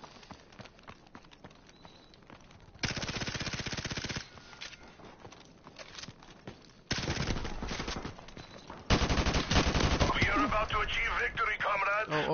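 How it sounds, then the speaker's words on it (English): Suppressed mini Uzi fire in Call of Duty MW Remastered, heard as bursts of rapid clattering shots in several separate stretches, loud and close, the last burst long and sustained. "the suppressor with the mini Uzis"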